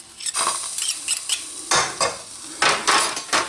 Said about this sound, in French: On remue, on va le faire un peu cuire pour enlever son excédent d'acidité.